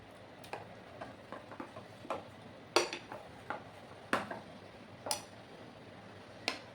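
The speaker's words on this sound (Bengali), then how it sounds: "ভালো করে কিন্তু ফেটানোটা করে নিতে হবে।" A potato batter being whisked in a bowl, giving light irregular clinks and taps of utensil on the bowl, a dozen or so quiet sharp strikes against a soft background, with no talk.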